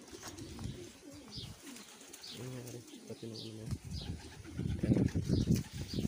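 Pigeons at a breeder's loft coo softly in repeated low throaty phrases, with a few faint chirps and some wing rustling nearby.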